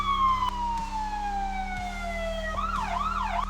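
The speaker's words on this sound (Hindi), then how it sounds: "और तभी दूर से मुझे सायरन की आवाज सुनाई दी। धीरे धीरे आवाज पास आती गई।" A police siren wails in a drama scene, first a long falling tone over a low engine rumble, then switching to a rapid rising-and-falling yelp, fairly loud and steady, with no speech over it.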